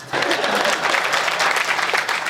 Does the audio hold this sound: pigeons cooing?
no